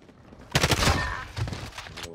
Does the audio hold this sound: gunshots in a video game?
yes